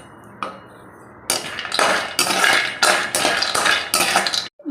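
Almonds dry-roasting in a pan are stirred in loud, rhythmic bursts, each stroke bringing a dense rattle and clatter of nuts against the metal, about half a dozen in a row after a quieter start.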